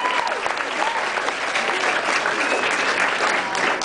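A concert audience applauds at a show, a dense, continuous wash of clapping and crowd noise that holds steady and fairly loud throughout.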